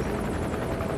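Idling helicopter at a rooftop heliport in a video game: a steady, dense rotor-and-engine drone that holds even and fairly loud for the whole second, with no voices over it.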